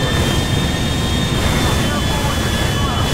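A Boeing 747 in Grand Theft Auto 5 gives a steady, loud jet-engine roar with a thin high whine running through it, continuous and close throughout.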